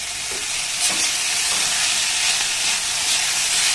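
Vegetables and grated paneer stir-frying in a pan, giving a constant loud hissing sizzle with occasional stirring scrapes, close up and free of talk.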